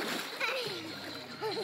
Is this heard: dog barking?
no